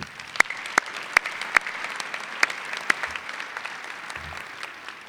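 Graduation commencement crowd applauding a pipe and drum corps, a broad sustained clapping wash with a few sharp louder claps standing out near the front.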